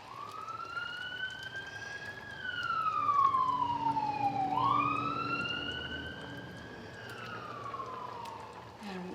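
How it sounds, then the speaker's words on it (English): An ambulance siren wails past outside a home kitchen, its rising and falling tone sweeping up, then dropping sharply as it goes by. It is moderately distant and heard alone, with faint traffic underneath. "if you heard that ambulance just go by"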